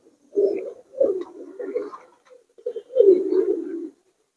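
Giribaz and Pakistani high flyer pigeons in a loft give soft, low cooing calls in two or three rolling phrases, close and fairly quiet, with no talking.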